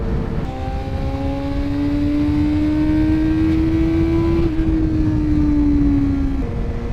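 A Suzuki GSF250V Bandit's 250cc inline-four motorcycle engine revs loud and close in a high, smooth whine, rising steadily, dipping briefly, then climbing again with no talk.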